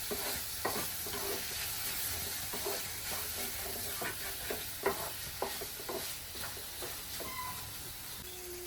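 Tomatoes sizzle in hot oil in a pan while being stirred for a drumstick, brinjal and potato curry, with steady frying hiss and repeated scraping stirs close by.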